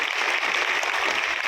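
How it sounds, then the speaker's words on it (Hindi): Loud, steady applause from an audience at a school ceremony at Vivekananda Vidyalaya in Dhagwan, Sarila, Hamirpur, dense continuous clapping with no pauses throughout. "तालियों को स्वागत करें।"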